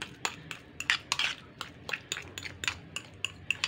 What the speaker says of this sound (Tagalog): Maingay yung aking plato.